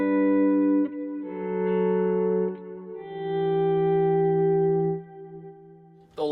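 Electric guitar runs through an Empress Echosystem pedal on a heavy reverb and delay preset, a few sustained chords swelling and ringing out with long washy tails and gaps between them.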